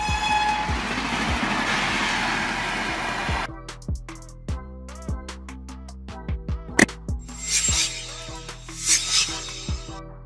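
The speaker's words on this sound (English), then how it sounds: "Electric locomotive." Electric locomotive train passing, starting with a dense roar of running noise, then sharp rhythmic wheel clacks and a few tonal horn-like blasts standing out near the end.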